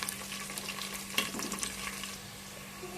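Green chilies and onions fry in a pan for a curry, a soft continuous sizzle with one sharp clink of a utensil and light stirring, close and fairly quiet.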